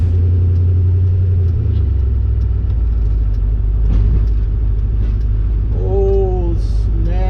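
A car drives steadily with a loud, constant low engine rumble and road drone, a shift in engine tone early on and brief faint squeaks near the end.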